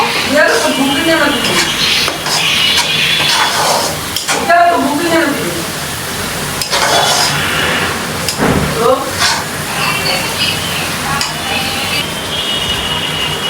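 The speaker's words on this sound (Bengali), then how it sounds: "এখন ভালো করে মশলাটা কষাবো।" Ground masala with cumin powder frying in a pan, a constant loud sizzle broken by repeated scraping stirs, with someone talking over it much of the time.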